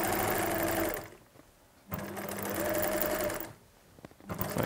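Sewing machine stitching down the front of a knitted cardigan before steeking, running in two loud steady bursts separated by brief quiet pauses with small handling noises.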